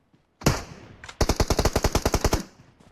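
A burst of automatic machine-gun fire in PUBG Mobile: one loud shot, a short pause, then a rapid string of about a dozen close, evenly spaced rounds that stop abruptly.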